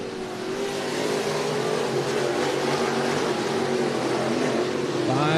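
Race cars on the dirt oval at Cottage Grove Speedway in Cottage Grove, Oregon, a sustained, loud, droning engine roar from cars running laps, swelling slightly at the end.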